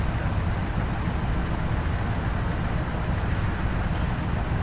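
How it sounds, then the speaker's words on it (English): A Jeep engine in the video game Fallout Tactics gives a steady, loud rumbling drone with constant road-like noise, running unbroken from start to finish with no voices. "Broom, broom, it's the sound of the Jeep."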